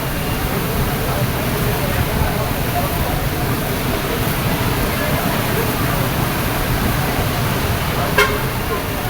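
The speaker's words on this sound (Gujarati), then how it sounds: "વરસાદ અને વાવાઝોડું બંને એક સાથે." Heavy rain pours during a storm in Dubai near the Atlantis hotel, a loud, dense, continuous wash of noise close by, with a brief horn toot near the end and a person talking over it.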